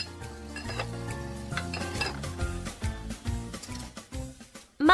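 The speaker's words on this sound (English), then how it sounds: "Clang, clang, clang, clang, wash the dishes." Dishes are washed, with pots, plates and cutlery clanging and clinking in quick irregular knocks amid watery sloshing, fairly close and without talk.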